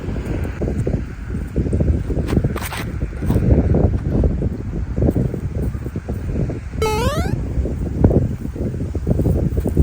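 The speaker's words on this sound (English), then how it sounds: "wind pretty strong right now" Strong wind buffets the microphone on a disc golf course, a steady, loud, roaring rush that carries on throughout, with a brief electronic chirp partway through.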